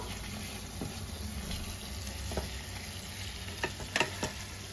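Egg and spiny gourd curry with garam masala stirred in a pan: a steady low sizzle and frying hiss with a few light scraping knocks near the end.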